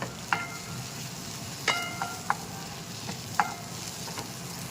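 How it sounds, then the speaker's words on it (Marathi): Onions and cashew pieces frying in a pan over low heat, a steady soft sizzle broken by a few sharp clicks of a spoon against the pan, close up with no speech. "लालसर होईस्तोवर फ्राय करायचा कांदा"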